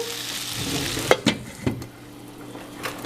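Potatoes and pork chops frying in a skillet give a steady sizzle, broken by a few sharp scrapes and clacks of stirring, with no voices.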